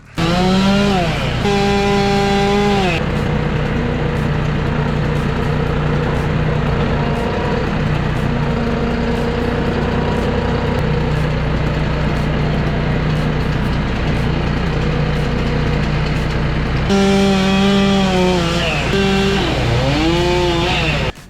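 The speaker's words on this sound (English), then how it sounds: "Let's cut up some of these logs and find out." Chainsaw cutting firewood logs outdoors in cold winter weather, running loud and steady throughout with revving bursts at the start and end as it bites into the wood.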